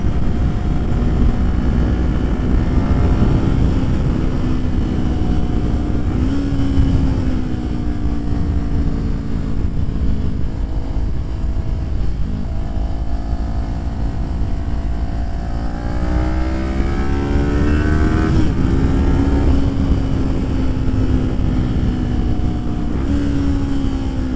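A Kawasaki Ninja 400 motorcycle is ridden through the mountain twisties of Palomar Mountain, its engine loud and close throughout, with the pitch rising and falling repeatedly as the rider shifts and throttles through corners, over steady wind noise.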